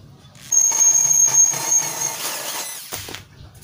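A power drill with a 3/8 bit whines at high pitch as it bores into a metal pipe for a used oil burner stove, with a steady squealing tone that fades after a few seconds, then brief rattling.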